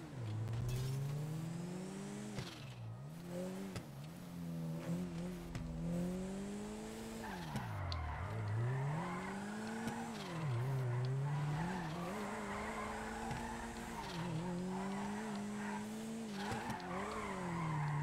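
A car in GTA 5 drifts under heavy handbrake, tires squealing in long wavering skids that rise and fall repeatedly over the engine's roar, loud and sustained with no pauses.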